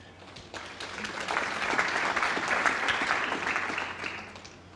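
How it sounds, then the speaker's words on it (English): Snooker audience applause swells up and holds for several seconds, a dense patter of many hands clapping, then begins to fade. "Applause."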